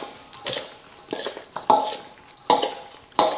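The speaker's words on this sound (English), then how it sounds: "And get that stirred up" Intermittent clinks and scraping of a utensil stirring sausage pasta salad with olives, red kidney beans and oregano in a bowl, with about five short bursts at irregular intervals, close and fairly quiet.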